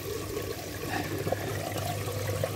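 Water pours steadily over the outlet of an automatic pond water leveler on constant overflow, a continuous close splashing trickle with no voices.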